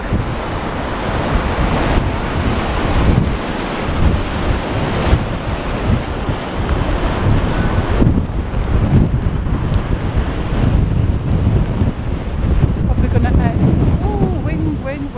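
Strong wind buffets the microphone on Blackpool promenade at high tide, a loud constant roar mixed with crashing surf that persists throughout. A voice can be heard briefly under the noise.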